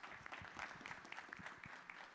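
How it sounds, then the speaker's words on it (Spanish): Applause from a conference audience at an artificial intelligence congress inauguration, a steady patter of many hands clapping, fairly soft and distant, with no talk over it. "Un aplauso para Julio, por favor"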